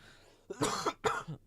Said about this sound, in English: Keep coughing my guts up here.